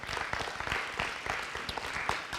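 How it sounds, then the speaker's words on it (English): Applause from a football awards banquet crowd greets a player being honored, steady mid-level clapping with scattered sharper claps running throughout. "Let's have a round of applause for number 5, Matt Carswell"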